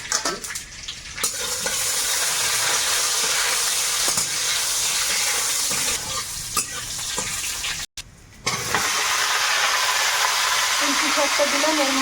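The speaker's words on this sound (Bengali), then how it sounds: "কড়াইটা ধুয়ে বসিয়েছি আর একটু তেল দিলাম এবারে রান্না করব কুলপি শাকটা তেলে একটু গোটা জিরে একটু রসুন করছি" Whole cumin and garlic sizzle steadily in hot oil in a wok, a loud continuous frying hiss close up, with brief gaps and small stirring clinks.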